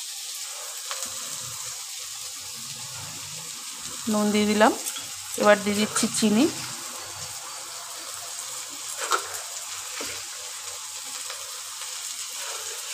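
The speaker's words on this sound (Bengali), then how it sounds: "এবার ভালো করে কষিয়ে নেব, কষিয়ে একদম ভাজা ভাজা করে নেব" Shredded cabbage sizzles softly in a pan for chow mein, with louder scraping bursts of stirring and tossing in the middle, while someone talks over the cooking.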